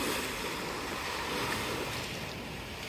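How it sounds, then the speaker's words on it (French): Surf at Coral Beach on Pangkor island, Malaysia, a soft continuous wash of waves with faint wind, steady and fairly quiet, no talk. "Bon, ça y est, on est sur la plage de Coral Beach."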